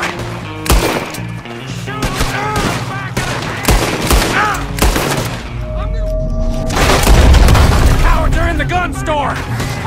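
Rapid, loud gunfire crackles through a Red Dead Redemption 2 shootout, with dense bursts of shots and booms sounding near and far, and shouting voices mixed in throughout.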